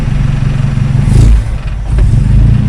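The engine of a 1970 Datsun 521 truck runs lean, close and loud, with a rough low idle that dips and surges unevenly as if about to stall.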